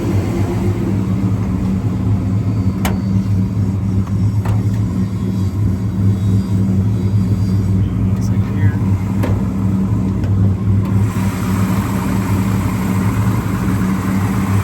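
A 1970 Plymouth Road Runner with a 383 V8 idles with a steady, low rumble, close and fairly mellow, while a person speaks briefly over it.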